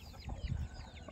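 Peru cross chicks chirping and clucking faintly in short, quick calls, a small batch of young birds kept for sale.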